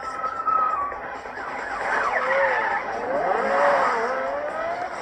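Car chase in a Korean TV drama, with tires squealing and skidding in rising and falling wails over engine noise, loud and continuous.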